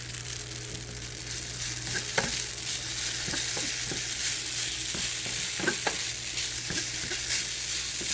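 Noodles fry in a pan with sesame oil and soy sauce and wild mushrooms, giving a steady close sizzle with occasional scraping stirs and light clinks throughout.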